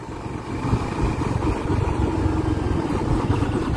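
A misfiring Barako 3 motorcycle engine runs close and loud with a rough, uneven low rumble that stutters continuously, without any talk.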